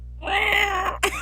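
A person imitates a cat's stretching yawn: a single drawn-out, whiny meow-like vocal rising and wavering for about a second, then a short sharp upturned squeak at the end, close and fairly clear.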